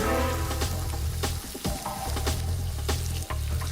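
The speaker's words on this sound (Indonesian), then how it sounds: "Setelah itu masukkan sayuran campur, aduk merata, jangan terlalu lama." Mixed vegetables stir-fried in a hot pan, a loud continuous close sizzle with repeated clattering scrapes of a spatula stirring, alone without voices.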